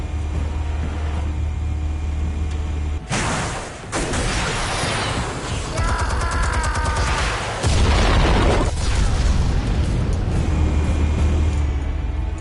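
A loud explosion from armed explosives in Telltale's Batman, a sharp burst followed by heavy rumbling and crackling debris lasting several seconds, set against a low droning background.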